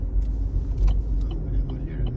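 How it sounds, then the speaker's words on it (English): A car rolls along a New York City street with a low steady engine rumble and road noise, faint ticks and clatter from traffic around it, heard from inside the vehicle. "In front of me there's an Uber car."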